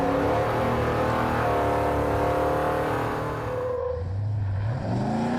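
A custom American muscle car engine roars with a deep rumble, holding steady revs and then dipping and climbing again, loud and close throughout.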